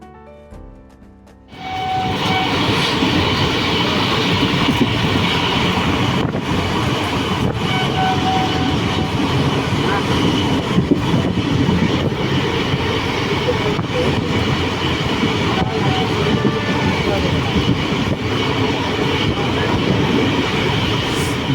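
The Kabiguru Express from Howrah toward Santiniketan runs near Bandel, a loud, steady roar of wheels and carriages that swells in after a quieter moment and continues unbroken, with faint rhythmic clatter.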